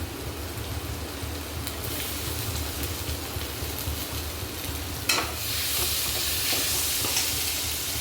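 Onion and tomato fry in a pan, a steady close sizzle with scraping stirs, and a sharp burst of stronger hissing partway through as more goes in.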